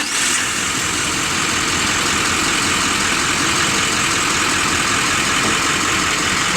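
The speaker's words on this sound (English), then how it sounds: "we'll go ahead and start the vehicle" A truck engine starts at a pre-trip inspection and settles into a steady, loud idle, a continuous low rumble running without pause and with no talk over it.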